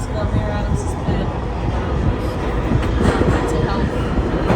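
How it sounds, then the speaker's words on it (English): Subway train arriving at West 4th Street Station in New York, a steady loud rumble with rail clatter and faint squeals, with voices of a gathered crowd underneath. "Train's coming."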